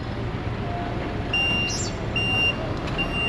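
Trucks rolling onto a large ferry bound from Pontianak to Jakarta, Indonesia, with a reversing alarm beeping in repeated bursts over a steady low engine rumble.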